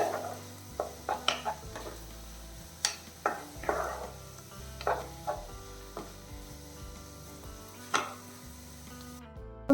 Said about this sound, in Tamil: இடையில கிளறி விட்டுக்கோங்க